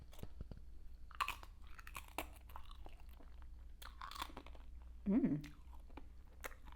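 Crisp, close crunching and chewing of grain-free vegan chips in repeated bites, with one louder, heavier crunch near the end and no talking.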